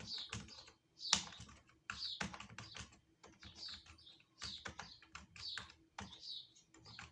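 Close, crisp computer-keyboard typing of numbers into an Excel spreadsheet, rapid clicks in uneven bursts separated by brief pauses, with no talking.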